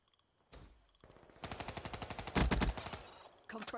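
Rapid bursts of shotgun gunfire in a video game, a loud close run of sharp blasts with the heaviest volley near the middle, then a few scattered shots at the end.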